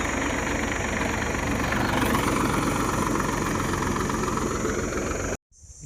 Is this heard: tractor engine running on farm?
yes